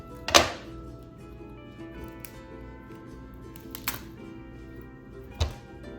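A knife chops through a firm, underripe ulu, or breadfruit, cutting off its harder part in a few sharp, close thunks spaced over several seconds, with quiet background between strikes.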